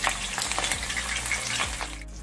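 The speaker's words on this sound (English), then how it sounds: "I like to flavor my oil with some scallion, some scotch bonnet, some garlic, and some onion." Scallion, scotch bonnet, garlic and onion sizzle steadily in a pot of hot oil, a close, continuous crackling fry with small popping bursts throughout.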